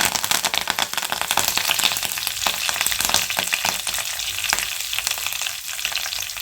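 Chana dal, dried red chilli and curry leaves frying in hot oil: dense crackling and popping over a constant sizzle, loud and close, with sharp spatters scattered throughout and no voices.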